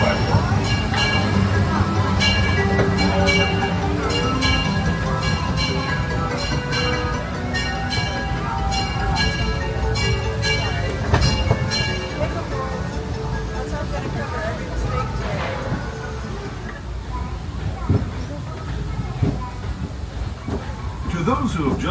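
A Disneyland Railroad train at Disneyland Park pulls into a station, with a steady rolling rumble and rattling clatter close by that gradually eases and thins out as it slows. A background voice murmurs faintly.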